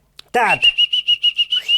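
A person whistles loudly and close by to call a dog back: a quick rising opening note, then a steady run of about seven evenly spaced, sharp high pulses, with a brief voice at the very start.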